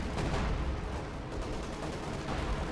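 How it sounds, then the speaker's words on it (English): Artillery strike in the Company of Heroes 2 video game: a dense, continuous rumble of blasts and gunfire, loud and sustained throughout with no talk. "called in some sort of strike on this location. Okay, it's that artillery, I guess."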